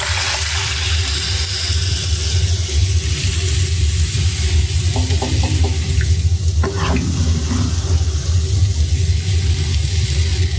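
Water is poured into a pan of meat that has been sautéed for a long time. It makes a loud, continuous rushing hiss that lasts the whole stretch, with no talk.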